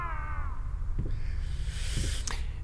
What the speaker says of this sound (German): Es hört sich an wie eine Katze.